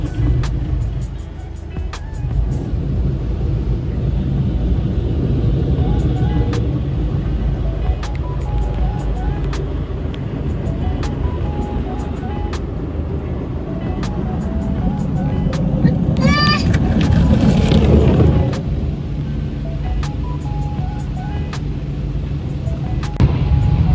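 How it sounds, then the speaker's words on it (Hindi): An automatic car wash machine washes and dries a car, giving a loud, steady mechanical wash and blower roar with whirring passes and sprays that continue throughout. "ये हो रही है हमारी कार वॉश"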